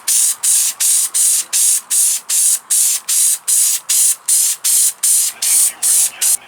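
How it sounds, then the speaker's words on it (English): Headliner adhesive is sprayed from an aerosol can onto the sunroof visor and headliner of an MK4 Jetta GLI in quick, evenly spaced hissing bursts, about a dozen short loud sprays heard close up with no talk. "We're going to spray on a coat of this."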